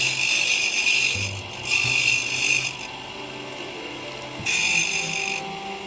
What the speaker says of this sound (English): this is the 150 grit. Like it's a little bit finer wheel